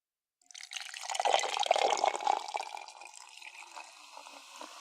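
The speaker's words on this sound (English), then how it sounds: "And we do pour." Coke poured from a container into a glass, a bright fizzy splash that builds quickly and then settles into a thinner trickle and crackle of bubbles, close and fairly quiet.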